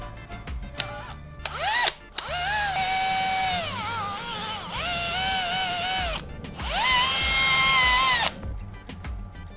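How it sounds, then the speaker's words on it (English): A power drill bores a small hole in a plastic bottle cap, its high whine rising and falling in pitch through several sustained bursts with short pauses between them, loud and close. "I'll drill a small hole in the bottle cap."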